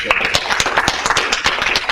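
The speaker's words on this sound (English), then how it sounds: "So, warm round of applause." A crowd claps for a speaker at a talk on maintaining healthy mental processes, producing dense, steady applause with quick overlapping claps that stays loud and close throughout.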